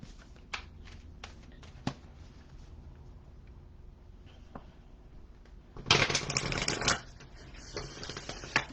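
A deck of playing cards shuffled in a lap, several soft riffles and taps early, then a dense, louder burst of riffling near the end, close and alone with no talk.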